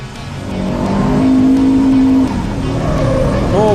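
Racing trucks, including an Isuzu light truck, roar around a track at the 2017 Supertruck Nationals, with loud sustained engine drone and rising revs close by while a commentator speaks over them.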